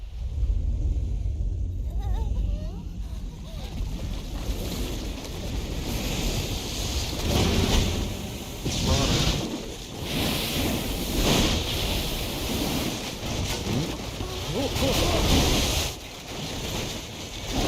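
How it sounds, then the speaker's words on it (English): Tsunami waves in Final Fantasy X HD surge and crash in a loud, sustained roar of churning water and wind, swelling and receding in repeated rushes over about eighteen seconds. "It's a tsunami."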